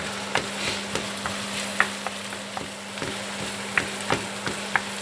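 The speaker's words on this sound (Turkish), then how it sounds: "soğan sotemizi bir kademe daha alalım hıza" Onions being sautéed in a pan sizzle steadily up close while a spatula scrapes and taps the pan in a loose, repeated rhythm of a dozen or so strokes over a faint hum.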